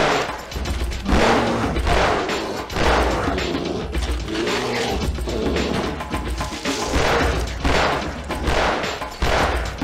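Rapid gunfire from the hunting video game Cabela's Dangerous Hunts 2, a dense run of repeated loud shots with mechanical clatter going almost continuously, with no talk.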